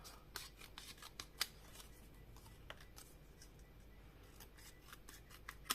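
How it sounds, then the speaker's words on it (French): Close, quiet snips of scissors cutting paper while trimming photos for a photo album, a steady series of crisp cuts at irregular intervals over a soft background hiss. "je vais même prendre une paire de ciseaux, ça ira peut-être plus vite"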